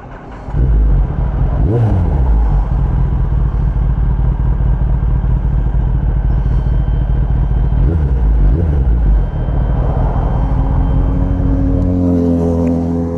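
A Kawasaki ZX10R motorcycle engine idles and runs steadily at close range, loud and continuous, with a couple of brief revs rising in pitch and a shift in tone near the end.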